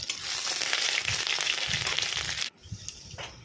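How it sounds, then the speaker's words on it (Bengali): Crushed ginger fries in hot oil with radhuni seeds and bay leaf, giving a dense, steady sizzle and crackle that cuts off sharply near the end, leaving a quieter hiss with small pops. "এরপর থেতো করা আদা দিয়েও একটু ভেজে নিতে হবে।"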